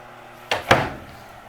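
An access drawer underneath in an RV travel trailer slides and bumps shut in two quick close knocks, alone in a quiet interior.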